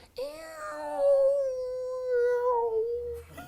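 A voice mimics a waterphone with water sloshing inside, a warbling, bending tone that glides and wobbles in pitch, heard up close in one drawn-out phrase.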